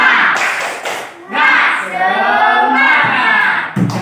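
Children in an Indonesian classroom doing a rhythmic spirit clap, a short burst of patterned hand claps with children's and a teacher's voices around it.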